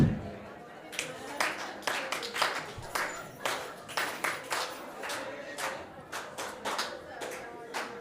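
Congregation at a church service clapping in a rhythmic pattern of sharp, repeated claps, moderately loud and fairly close, with a few scattered voices among them.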